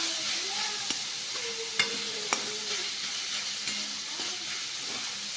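Soaked soybean vegetable sautés in a hot pan, a continuous soft sizzle and hiss with a few sharp spatula taps against the pan.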